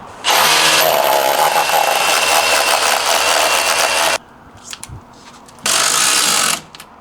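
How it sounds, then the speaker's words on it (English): A hammer drill roars in a long, loud burst drilling through a shim while framing raked stairs, stops briefly with faint knocks in between, then drills again in a shorter second burst. "Now we're gonna hammer drill over the shim."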